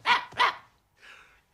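A dog in an animated Astérix film barks twice in quick succession, sharp and fairly close, then gives a softer, shorter third woof after a brief pause.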